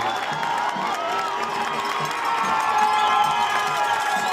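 A home crowd at a high school football game between Red Mountain and Mountain View roars and cheers continuously, loud and dense, with scattered shouts rising above the sustained noise.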